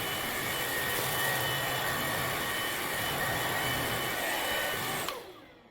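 A Bissell CleanView XR Pet 300 cordless vacuum runs with a steady, loud whirring hum that holds for several seconds, then cuts off abruptly near the end, with no voices.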